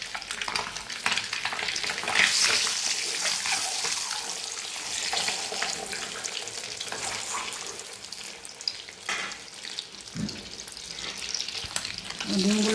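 Eggs fry in a pan with a continuous crackling sizzle and occasional stirring scrapes, loud and close throughout with no voices.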